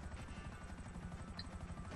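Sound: Akula helicopter in video game GTA V

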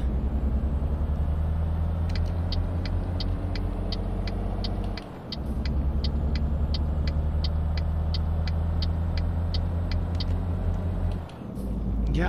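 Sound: truck engine driving in Euro Truck Simulator 2 video game

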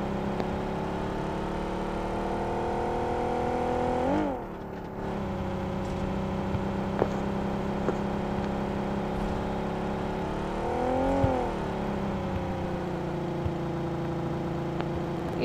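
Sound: McLaren Coupe RP car engine driving in BGMI video game

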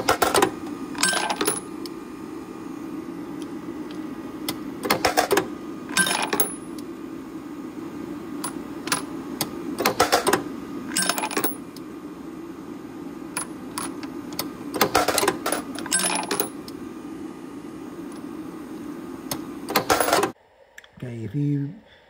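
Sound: Burstfire induction annealer running, brass cases dropping

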